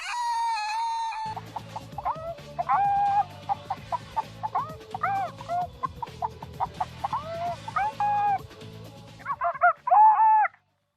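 A chicken sound effect, hen clucks and squawks in quick choppy bursts, close and clear with a few sharper cackles toward the end.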